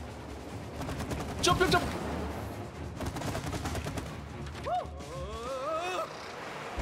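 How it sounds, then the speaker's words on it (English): Repeated rapid shooting in the co-op video game It Takes Two, steady bursts of fire with mechanical clatter, mixed with players talking and exclaiming over the action. "I'm shooting them and nothing's happening"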